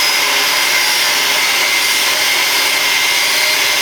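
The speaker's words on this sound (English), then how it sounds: "I've got two wired angle grinders and one battery angle grinder operational" An angle grinder smooths render on a shed wall, producing a loud, steady, hissing abrasive roar with no breaks, close up and without talk.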